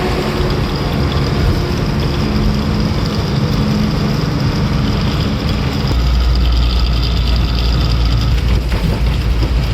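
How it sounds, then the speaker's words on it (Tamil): A heavy vehicle's engine labours while climbing a slope, giving a loud, constant low drone with vibration, which deepens and grows heavier partway through. "மீண்டும் மறுபடியும் மேடு ஏறணும் நம்ம வண்டி ஏறாது திணறும் போது"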